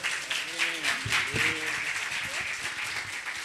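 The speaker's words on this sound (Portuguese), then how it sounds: "Dá uma salva de palmas para o Senhor." A church congregation applauds at a family service with a dense wash of clapping, while voices speak and call out over it throughout.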